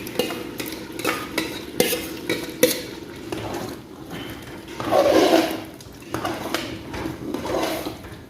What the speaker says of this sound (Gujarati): હળદર મીઠામાં આપણે તેલમાં ફ્રાય કરશું દૂધી દાળને